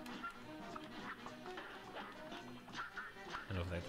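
Cartoon ducks from the Cuphead video game quack repeatedly over busy game music and effects, the quacks scattered and fairly prominent through the mix.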